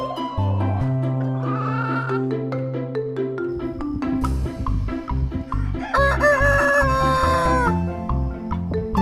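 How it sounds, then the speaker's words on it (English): A rooster crows loudly with chickens clucking on a farm, the calls repeating in bursts over about nine seconds, close and clear with no talk. "Chicken."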